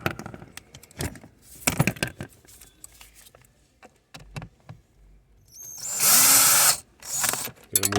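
A Phillips screw comes out of a Jeep Renegade cabin filter cover, with scattered plastic clicks and taps, then a loud buzzing whir of about a second from a powered driver, followed by more clicks.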